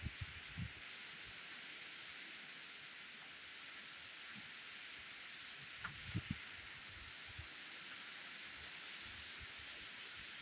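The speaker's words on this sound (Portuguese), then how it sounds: "Uma chuvinha fina e muito vento" Light rain and strong wind on a farm, a steady faint outdoor wash of noise with soft gusty rumbles and a few small knocks, distant and even throughout with no voices.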